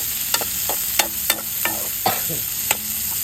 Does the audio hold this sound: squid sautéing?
yes